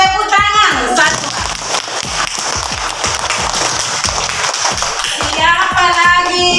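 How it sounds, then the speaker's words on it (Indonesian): A classroom of children claps together in a rapid, rhythmic pattern, loud and close, with brief voices at the start and end. "Bagus, tepuk tangan."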